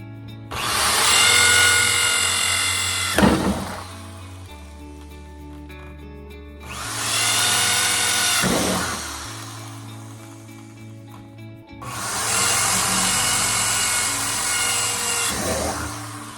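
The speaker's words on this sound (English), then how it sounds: "I finished drilling the holes in both halves of the 55-gallon drum" Three loud bursts of a power drill boring into a 55-gallon plastic barrel, each winding up and finishing with a gritty crunch, with short quieter gaps between.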